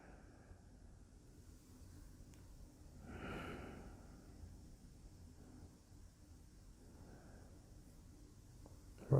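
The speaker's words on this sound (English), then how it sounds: "Breathe in and out." A slow, deep breath drawn in and let out during a tai chi exercise, audible as a soft, breathy rush in the middle of a quiet room, with faint breathing before and after.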